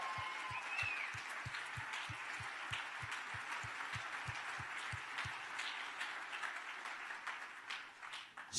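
Audience applause as a speaker is welcomed onto a podcast: a steady wash of clapping lasting several seconds with a low rhythmic thump underneath, fading slightly at the end.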